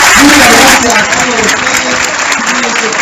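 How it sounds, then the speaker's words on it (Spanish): An audience at the Córdoba book fair applauds Margarita Stolbizer as she leaves, loud, close, sustained clapping that runs throughout, with voices mixed in beneath it. "Le damos un fuerte aplauso para despedir a Margarita Felicia."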